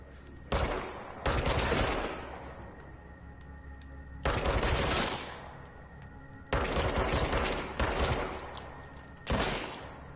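Semi-automatic gunfire in a shooter video game, fired in four separate rapid bursts about two seconds apart, loud and close, with quiet gaps between them.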